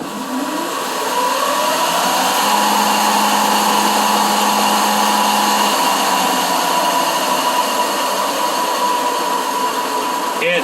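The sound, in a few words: homemade robot sawmill motor with VFD drives starting up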